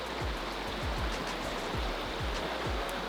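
Water of a small trout creek rushing steadily past, a constant broad hiss and burble, near and unbroken, with soft low thumps recurring beneath the flow.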